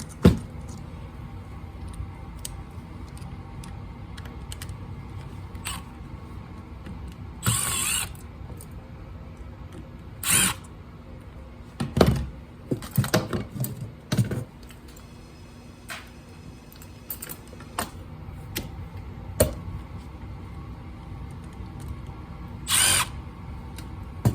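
Small Phillips screws being driven out with a small Phillips bit while taking apart a small electronic item for scrap, giving low mechanical whirring and scattered ratchet-like clicks and sharp clacks close by, with no talking.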